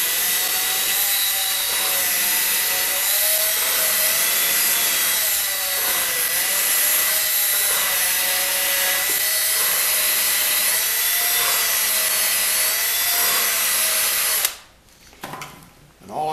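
A steady, continuous grinding and rubbing of a grindstone against metal bellows edges of an organ, loud and close, running without pause before cutting off abruptly near the end.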